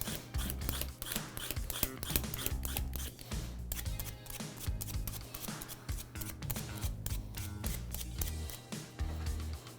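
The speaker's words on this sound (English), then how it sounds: "We're going to use our peeler. We're going to go through and peel all the parsnips before we cut them." A vegetable peeler scrapes along parsnips in a kitchen, making repeated quick rasping strokes close by over steady low background music.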